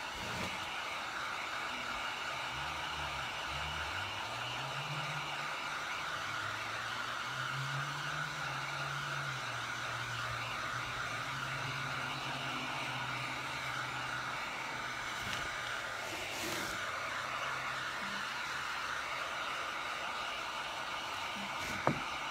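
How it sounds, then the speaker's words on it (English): A heat gun blows steadily while drying paint on an old frame, a constant airy whoosh with a whining motor tone that holds at an even level throughout, close by and without talking. "Dry this with our heat gun"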